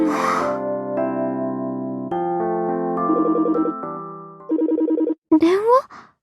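A phone rings in the Project Sekai video game, a loud repeated electronic melody pattern that cuts off, followed by a brief gasp-like voice.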